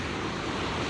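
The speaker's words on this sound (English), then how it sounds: "As you can probably hear and see, there's a fair bit of wave action." Ocean waves break on the beach at Playa Zancudos, a dense, continuous wash of surf noise close by, with some wind buffeting the microphone over this brief moment.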